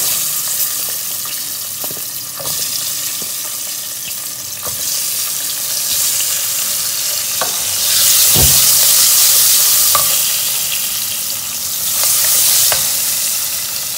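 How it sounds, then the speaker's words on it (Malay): Shallots frying in oil with fenugreek and broken urad dal for an Indian salted fish curry, a continuous loud sizzle that swells midway, with scattered spoon taps and scrapes against the pan. "And after this, I am going to add in the shallots."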